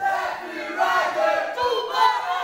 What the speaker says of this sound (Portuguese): Alguns gritando o nome do Death Rider, outros gritando o nome do Tubarão Negro.